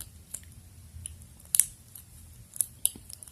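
Faint scratchy crunching and clicking from a lock pick working inside a padlock during a bypass attempt, with a few sharper ticks standing out against a low background hum.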